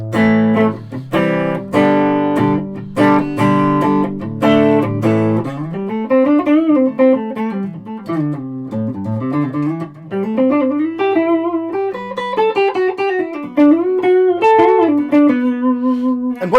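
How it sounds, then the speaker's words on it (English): A Burny Les Paul-style electric guitar from around 2012 plays loud and alone through an Orange TH30 amp with a reverb pedal, opening with strummed chords and then moving into bending single-note melodic lines. "Playing to the Orange TH30 with a reverb pedal on."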